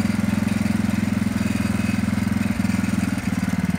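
A junk lawn tractor engine idles close by with a steady, rapid low thumping pulse throughout, loud and uninterrupted.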